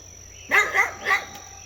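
A dog barks three times in quick succession, short and moderately close, over a faint steady background hum.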